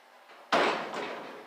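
The door of a 1955 gasser car under rust repair shuts with one sharp, solid slam close by, followed by a brief fading rattle.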